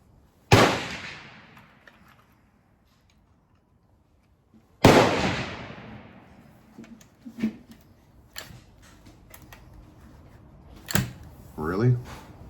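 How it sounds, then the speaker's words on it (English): A quiet rifle fires twice at a rifle range. Each shot is a sharp crack that fades out over a few seconds, with faint clicks, handling noises and brief voices in between. "you can see why I call it the quiet rifle"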